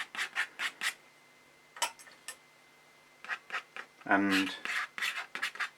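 A pen nib scratches across paper in an ink drawing, short rhythmic bursts of rasping strokes, close and fairly quiet, with a brief spoken word partway through.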